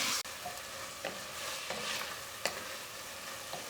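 Carrots and onion soften in a pan for a plant-based sweet potato poblano corn chowder, making a soft, steady sizzle broken by a few spoon scrapes and stirring knocks, with no voices.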